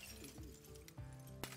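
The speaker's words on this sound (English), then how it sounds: "Let's try and smash the window" Window glass shatters in the zombie survival game Project Zomboid, a sharp crash followed by a tinkle of breaking fragments, brief and fairly close over a low background hum.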